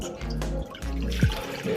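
Water streams from a tap into a cooking pan for preparing sago, a steady, close, filling rush that pauses briefly and resumes, with a short splash near the end.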